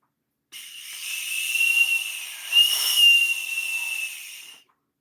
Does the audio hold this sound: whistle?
yes